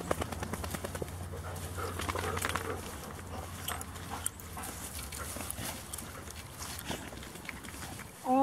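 A boxer dog pants and runs during collar training outdoors, with quick rhythmic breathing and patter of movement at moderate distance, faint rustling and occasional voice underneath.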